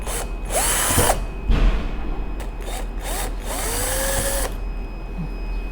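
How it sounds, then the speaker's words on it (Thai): A power drill bores a hole to mount a buzzer for a water-overflow alarm, running in several loud bursts of varying pitch with short pauses between them and nobody talking. "เดี๋ยวเราจะเจาะรูตรงนี้"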